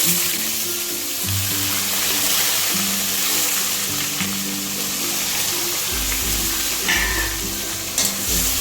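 Onion paste sizzles loudly in hot oil in a pan while cooking a low-oil doi katla fish curry, with a steady close-up crackling hiss and stirring clatter throughout.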